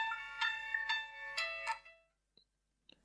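A PinePhone running Sailfish OS 4.0.1.48 rings with an incoming call, a loud harmonic ringtone pulsing in four bursts and then falling silent, followed by two faint clicks.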